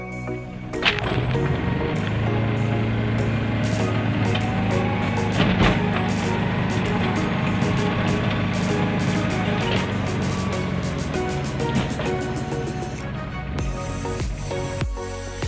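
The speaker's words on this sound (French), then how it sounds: "nous avons toujours le fameux bruit du Kubota Z482" Cabin view of an Aixam City microcar with a Kubota Z482 diesel engine accelerating, a steady clattering drone with rhythmic ticking throughout, fairly loud and continuous.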